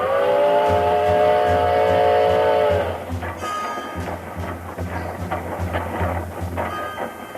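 A wood-burning steam locomotive effect from a radio drama: a loud sustained whistle gives way to rhythmic chugging and rolling metallic clatter, with no voices.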